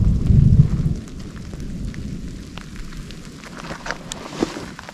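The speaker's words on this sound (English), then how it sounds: "we just sat out the thunderstorm" Rain pours over an exposed mountain route near 8,000 feet during a thunderstorm, with a loud low rumble of thunder at the start fading into steady, dense rainfall and scattered nearby drops, no voices.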